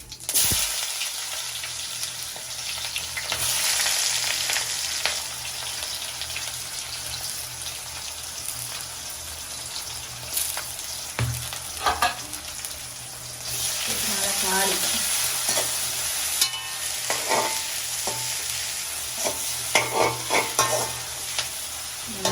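Potato and onion stir-fry with dried fish in a pan, a steady loud sizzle broken by repeated scraping stirs and a few clatters, with faint voices now and then.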